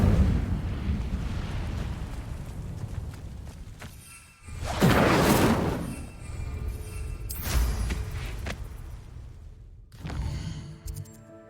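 Incendio fire spell cast in Hogwarts Legacy: a loud fiery whoosh and burst that swells and fades, followed by further crackling blasts and rumbles and a sharp pop near the end.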